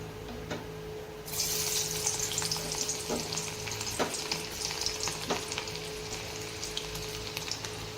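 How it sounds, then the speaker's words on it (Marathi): Chopped garlic dropped into hot oil: quiet at first, then a sudden loud burst of close sizzling that carries on steadily, punctuated by a few sharp stirring taps. "तेल गरम झालेलं आहे आता त्यामध्ये मी काय करत आहे लसूण कट करून घेतलेला ते लसूण त्या तेलामध्ये टाकून घ्यायचं आहे"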